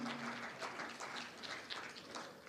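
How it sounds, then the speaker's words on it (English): Audience applause for a speaker at a children's rights legislative reform symposium: steady, dense clapping at moderate-to-faint level, sustained throughout with no talk. "A big round of applause to Dr. Faranini."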